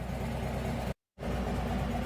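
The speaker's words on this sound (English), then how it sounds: "I'm gonna let this bike run for a few, just so you're in idle." A motorcycle engine idles in a garage with a steady low rumble, fans running alongside, and the sound cuts out completely for a fraction of a second midway before resuming.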